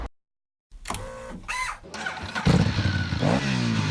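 A Honda CB300R, a 286 cc single-cylinder motorcycle, starts after a brief silence, then blips and revs in several sharp bursts, close and loud, with the throttle rising and falling.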